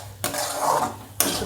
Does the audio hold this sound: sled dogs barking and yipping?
no